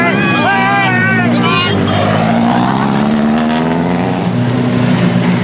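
A 2007 Citroën-era WRC rally car driven by Sébastien Loeb wheelies around the service area at Rally Japan: a loud, steady engine drone with shifting revs, heard close under continuous crowd and commentary noise.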